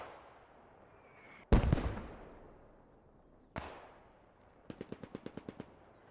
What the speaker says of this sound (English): You can see an exchange of machine gun fire going on both sides. We've got MG42s facing off against the Bren machine gunners.